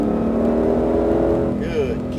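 A Ford Mustang Shelby GT500 pulls hard out of a left-hand turn on a racing circuit, its engine droning loudly and steadily from inside the car while a person talks over it.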